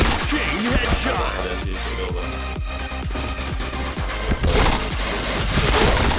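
Rapid video-game gunfire in continuous, dense volleys of sharp shots and booms, with headshot kills, loud and busy throughout.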